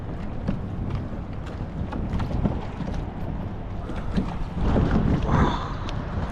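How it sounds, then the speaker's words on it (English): A kayak is paddled on open water at Pier 26, with irregular paddle splashes and water sloshing against the hull under gusty wind buffeting the microphone. "So let me get back to kayaking again."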